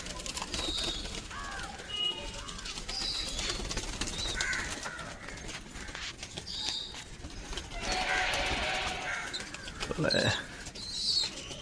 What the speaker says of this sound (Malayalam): പ്രാവ് അവിടുന്ന് പറക്കുവാണ്